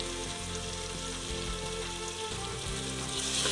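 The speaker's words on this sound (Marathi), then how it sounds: "भिजवलेले दोन चमचे तिखट मसाला आणि अर्धा चमचा हळद घालून मिक्स करून तो मसाला चांगला तेलावर भाजून घ्यायचा" Chilli masala and turmeric frying in hot oil for a spicy home-style chicken curry cooked on a wood stove, a steady close sizzle with a low rumbling hum underneath, growing slightly louder toward the end.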